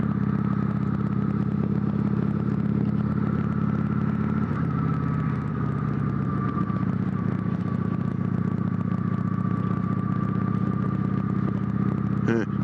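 A Kawasaki Vulcan 900 cruiser motorcycle rides through city streets with a steady, close engine drone and a constant low rumble throughout, ending in a brief clatter.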